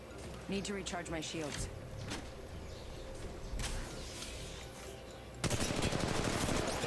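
Gunfire in the mobile game Apex Legends Mobile: bursts of rapid automatic shots and single cracks, with a heavier volley near the end, heard under a voice commenting.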